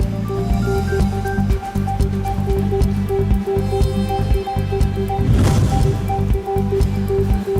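Heavy torrential storm rain in Rawalpindi pours in a dense, continuous wash of splashing drops, with a steady background hum and a louder surge of splashing midway, and no voices.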